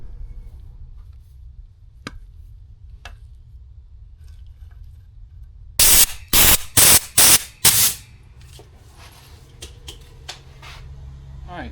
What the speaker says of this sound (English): I'm gonna deburr this and then blow this out with air, and also put some brake cleaner through it